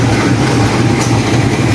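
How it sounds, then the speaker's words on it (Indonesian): An Indonesian Pasundan train locomotive in service, part of a new-generation trainset, gives a loud, close, continuous heavy engine rumble with rail noise and no voices. "Ini lokomotif yang berdinas ya."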